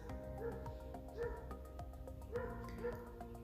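Dogs next door bark repeatedly in the distance, a steady run of yips and woofs over a constant background hum.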